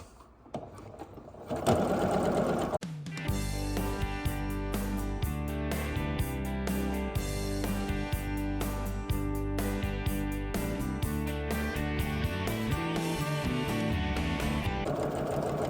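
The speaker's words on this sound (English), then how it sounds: "sewing the second line that we drew" A sewing machine runs steadily, stitching a second drawn line across a quilt panel block, with continuous motor whir and rapid needle rhythm after a brief start, close and loud throughout.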